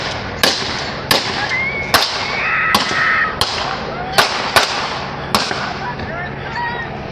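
Gunshots in a daylight street shootout between a robbery suspect and police: about nine sharp cracks spaced irregularly, fairly close and loud, with a car horn honking and voices in between.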